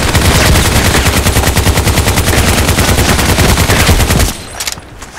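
A machine gun fires in the online shooter Contract Wars as a loud, rapid, unbroken burst of shots for about four seconds. It then cuts off into a few quieter clicks and thuds, with no speech.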